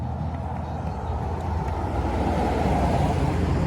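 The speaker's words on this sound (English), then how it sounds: "Okay, here comes a police vehicle." A police vehicle passes along the Carretera highway while someone walks west toward Riberas. A steady, loud road rumble carries wind buffeting throughout and swells slightly toward the end.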